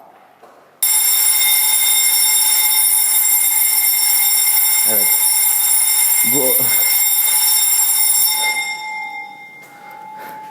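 A loud, steady electronic alarm rings at Shenzhen University with a harsh sustained tone, like a war siren, while a person briefly speaks and laughs underneath before it cuts off.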